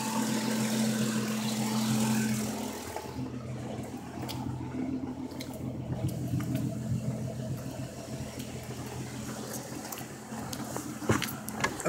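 A car engine idles steadily, a low continuous rumble heard from close by with a faint hissing wash over it and a few light clicks, and no talk over it.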